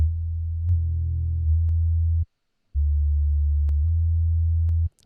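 Deep sub bass synth notes from Massive with an additive oscillator and the filter cutoff opened fully, two long sustained low tones separated by a short gap, smooth and heavy with no voices.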